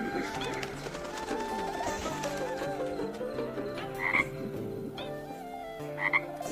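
Frogs croak in a dense, continuous chorus, loud and close, with a few higher squeaky chirps standing out over the steady rattling drone.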